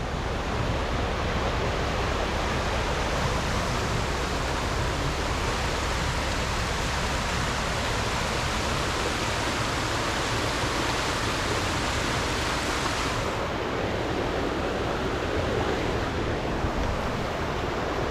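A fast-flowing mountain creek on an off-grid homestead, a dense, constant roar of rushing water, loud and close, with no breaks.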